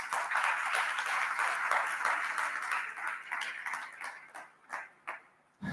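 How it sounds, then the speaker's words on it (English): Loud, dense applause from a seminar audience on gender equity, steady at first and then thinning into scattered claps before tapering off near the end. "we need to give them another loud applause"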